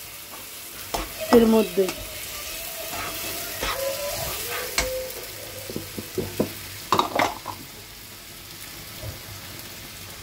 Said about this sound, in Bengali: মশলাটাকে আমি সুন্দর করে এবার কষিয়ে নেব